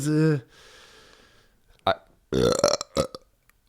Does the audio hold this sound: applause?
no